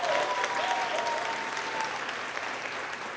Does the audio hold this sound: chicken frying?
no